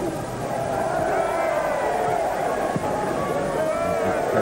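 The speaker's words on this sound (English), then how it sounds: "They cheer every time he touches it." A football stadium crowd at a 1999 Arsenal versus Real Madrid friendly cheers as a player touches the ball, a broad continuous roar of distant voices running under a commentator's voice.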